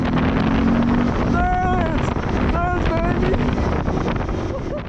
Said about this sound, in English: I then attempted to pull a third gear sit down wheelie, something I could never accomplish before